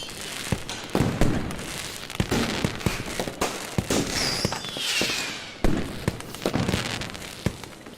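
Fireworks and firecrackers pop and bang in an irregular volley of sharp cracks at varying distances, some loud and close, with crackling and a faint whistle between bursts.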